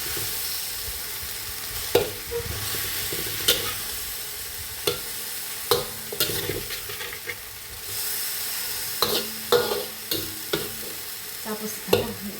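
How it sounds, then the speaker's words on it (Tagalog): Stir-fried kangkong with chicken breast being stirred in a hot pan, seasoned with chicken powder and salt, with steady sizzling and frying hiss under repeated scraping and clacking strokes of the spatula, close and continuous. "So haluin lang yun ulit."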